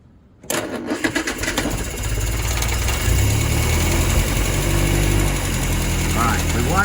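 A Lucas-equipped engine with a generator charging system cranks briefly and catches, then settles into a steady, loud, close idle that carries on to the end, with a faint voice heard near the finish.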